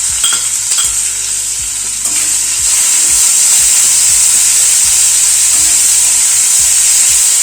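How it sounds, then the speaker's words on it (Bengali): Two medium chopped onions frying in a pan over a lowered gas flame, with potatoes already in, give a close, continuous bright sizzle with occasional stirring scrapes and no talk. "পেঁয়াজটাকে হালকা করে ভেজে নেব।"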